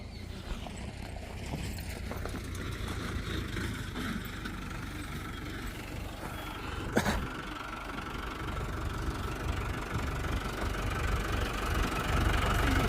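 A vehicle engine idles nearby on a jungle trail, a continuous low rumble with a faint rhythmic knock running steadily throughout, with a brief sharp click midway.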